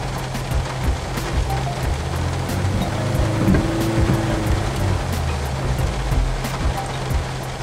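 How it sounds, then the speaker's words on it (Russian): An Opel Corsa D engine from 2006-2015 with about 214,000 km idles steadily close by, a low even hum and rumble with a faint rhythmic ticking over it, heard alone without talk. "Еще раз проверим работу двигателя."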